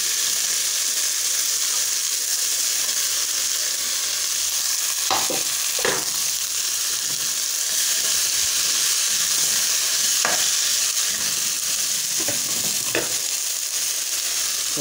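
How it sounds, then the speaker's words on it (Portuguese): Chopped kale frying in a pan for a kale porridge, a steady close sizzle with a few brief stirring scrapes, no talking. "Aí vou acrescentar agora a couve."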